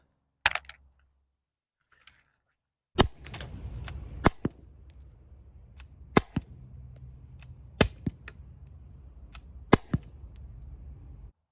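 Air gun firing steel balls powered by an Umarex 12g CO2 cartridge: eight sharp, loud shots spaced about a second or two apart, each with a hiss of gas and a steady low rumble running between shots.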